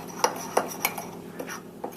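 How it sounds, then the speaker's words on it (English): A spoon clinks and scrapes against a mug while an egg is mixed into mug cake batter, several sharp taps in a quick, uneven rhythm heard close and alone. "Now give this a nice mix and mix this in thoroughly."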